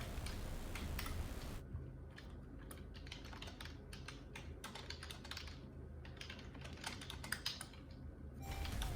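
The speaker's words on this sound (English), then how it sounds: "Here's how the typing sounds like." Steady, fast typing on a Logitech K480 keyboard with large squarish keys, close and fairly quiet, a dense patter of light clicks with no voices.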